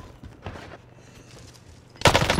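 Gunfire in Call of Duty: Warzone on Rebirth Island, a few faint distant shots followed by a loud close burst of rapid fire at the end.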